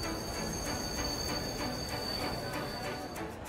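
Heard from inside a moving train, the clip carries a steady, dense rumble and rattling roar that stays constant, with no talking over it.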